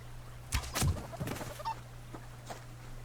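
Chicken clucking in the hunting survival game Subsistence: a few short, brisk clucks in a quick cluster near the start, then a couple of fainter calls trailing off over a steady low hum.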